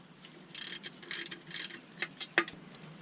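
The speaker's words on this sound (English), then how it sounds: "we got to take these 6 bolts out all the way around the outdrive" Socket ratchet backing out bolts around the lower unit of a Yamaha four-stroke outboard, several short bursts of quick metallic clicking with brief pauses and a sharper clack near the end, close up.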